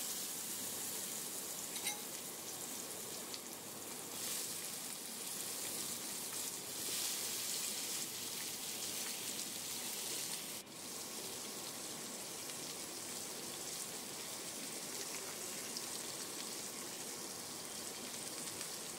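Raw mango pieces fry in oil with mustard seeds, giving a steady crackling sizzle that carries on evenly with no talking.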